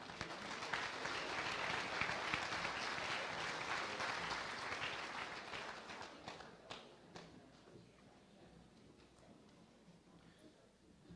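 An audience at a Kansas FFA state awards ceremony applauds the top-placing chapters, dense clapping swelling for several seconds, then thinning to scattered claps and fading out near the end.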